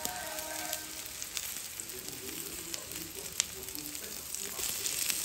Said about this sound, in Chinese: 1分钟后打开盖子，用铲子翻一下面，每一个苦瓜饼都翻面